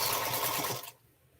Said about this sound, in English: all my machines are reliable as long as they stitch